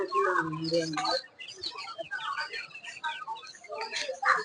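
Country chickens cluck and squawk nearby at a busy Sunday market in Trichy, with a voice talking briefly at the start.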